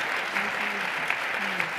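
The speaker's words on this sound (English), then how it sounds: "Let's give these ladies one more round of applause" Audience applause for a panel of women at a professional development event, a steady wash of clapping filling the room with a few sharper individual claps, faint voices mixed underneath.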